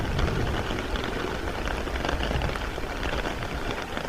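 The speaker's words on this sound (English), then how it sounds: "So next time you hear the rain," Steady rain patters densely on surfaces in a garden, a constant close hiss of drops with no voices.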